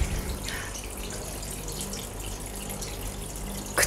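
Homemade indoor decorative waterfall running steadily, a constant close splashing trickle of water with a brief louder splash at the end.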